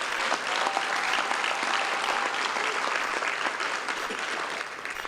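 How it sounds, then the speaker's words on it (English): Sustained applause from a large audience at an evening awards gathering of the Meharry community, dense and steady throughout, easing slightly near the end. "Can we give them another round of applause?"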